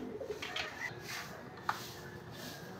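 Pigeons in a pigeon loft give soft, faint cooing murmurs in a quiet background, with a sharp click partway through.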